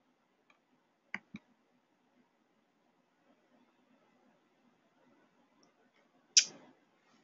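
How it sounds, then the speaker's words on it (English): A computer mouse clicks twice in quick succession, small and faint in a quiet room, and a slightly louder single click follows a few seconds later. "Click on prize one."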